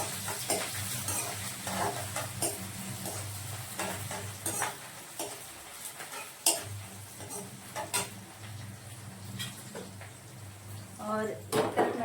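Onion fries in a pan on a home stove with a soft sizzle, while a spoon scrapes and clinks against the metal and pots knock now and then; someone talks over it.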